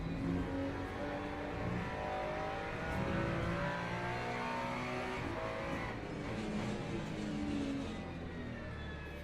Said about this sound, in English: Lambo surely has the best external sound of any car